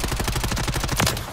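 Rapid automatic fire from a Ram 7 assault rifle used as a submachine gun in Call of Duty on Rebirth Island, a close, loud, evenly spaced burst of about a dozen shots with no talk.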